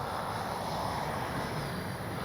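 A FMS Avanti S 70mm RC jet with flaps and gear down passes by, a steady, moderately distant ducted-fan rush with a high whine, heard on its own.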